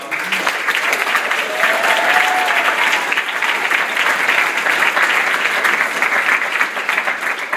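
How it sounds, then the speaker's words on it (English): An audience at a TeenPact Florida state class event claps steadily in sustained, dense applause filling the hall, with a few indistinct voices faintly underneath. "please give her a round of applause"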